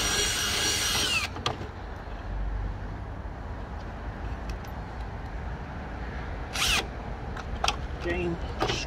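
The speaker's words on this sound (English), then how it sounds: "Drill again to countersink the hole a bit." A steady power drill whir runs for several seconds while countersinking a hole during arbour assembly, with brief louder bursts near the start and end, close by.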